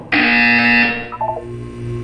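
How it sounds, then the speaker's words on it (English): A loud, steady electronic buzzer from Portal 2 blares for about a second, then a few short warbling tones follow and a low hum lingers. "When you hear the buzzer, look down at the floor"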